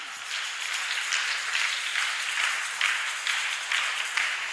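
A church congregation applauding the Lord, steady massed clapping with gentle rhythmic swells, moderately distant and even throughout.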